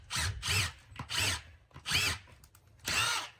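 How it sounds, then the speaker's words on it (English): A power drill pre-drills holes in wood, whirring in four separate loud bursts of roughly half a second each, with brief quiet gaps between them and no talk. "I'm going to pre-drill with these bits."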